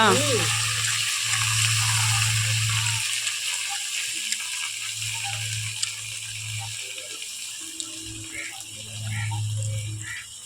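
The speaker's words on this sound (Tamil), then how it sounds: "இப்போ இந்த கறி எடுத்து அதில் பெரட்டிடணும் நல்லா எண்ணெயிலே பெரட்டணும்" Meat turns in hot oil in a village kitchen pan, a steady hiss and scraping stir running throughout while a low hum pulses underneath and someone talks over the cooking.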